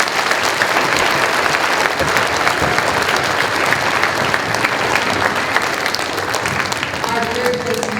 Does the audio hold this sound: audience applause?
yes